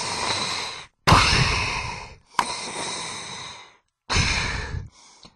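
A voice imitates Darth Vader's breathing, giving three or four long, hissing breath cycles separated by short silences, loud and close, with a fainter trailing breath at the end.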